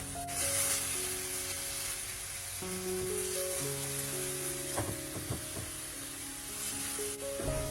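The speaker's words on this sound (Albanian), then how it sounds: "do t'i hedhim 2-3 lugë vaj ulliri dhe do ta skuqim mirë" Beef sizzles steadily in two to three spoons of olive oil in a pan, a continuous frying hiss under louder background music throughout.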